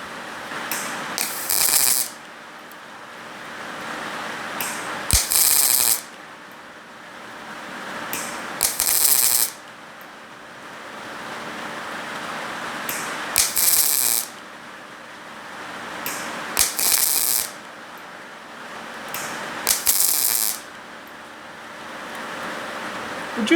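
A YesWelder Firstess DP200 dual pulse multi-process welder is running low on gas. It fires a series of short welding bursts, each a loud, sputtering hiss lasting about a second, repeated several times over a constant mechanical hum.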